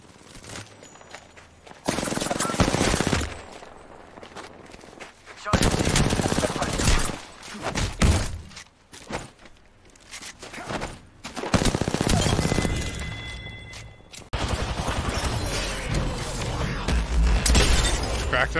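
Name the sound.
SMG gunfire fight in the video game Apex Legends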